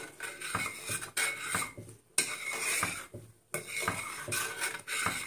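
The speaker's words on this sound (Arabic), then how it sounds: "هنبدا نقلب الرز بلبن مع الكريمه" A spoon scrapes and clatters around a pot of rice pudding with cream, rhythmic stirring strokes repeating in bursts with brief pauses between them, fairly close.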